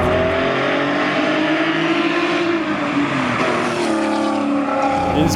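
Loud, raspy straight-pipe exhaust roar of a Porsche 911 accelerating hard, the engine pitch climbing and shifting with a gritty, aggressive tone throughout.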